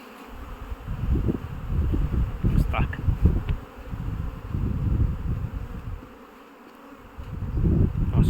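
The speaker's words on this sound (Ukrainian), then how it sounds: "Дуже сильно бджола почала літати." Bees buzz in a dense, low drone around a hive, swelling and fading in waves, close by and fairly loud.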